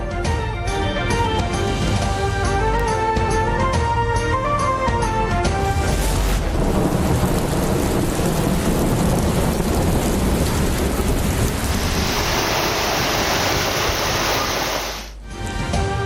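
Heavy monsoon rain and thunder over Karachi make a dense, loud roaring wash of downpour that follows a short burst of news-bulletin music and then cuts off abruptly.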